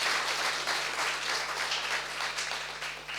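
An audience at an inauguration event in Pune bursts into steady, full applause to welcome a guest, a dense wash of many hands clapping that holds for several seconds with no talking over it.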